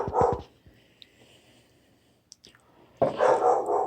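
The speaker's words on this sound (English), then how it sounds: "My dog's barking." A dog barks close by in a quiet indoor room: a quick burst of barks at the start, soft faint sounds and clicks in between, then another loud run of barking at the end.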